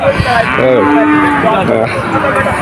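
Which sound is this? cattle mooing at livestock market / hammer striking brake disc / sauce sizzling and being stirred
cattle mooing at livestock market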